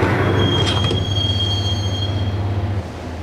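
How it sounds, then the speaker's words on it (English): Train wheels squeal in a long, steady high-pitched whine over a loud rumbling subway car on a ride in the Max Payne video game, close and continuous until the rumble drops near the end. "the train doors had already shut behind me, and I was in for the ride"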